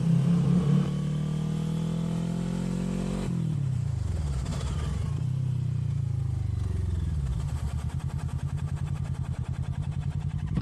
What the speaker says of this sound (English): so we got some lunchtime traffic in this neighborhood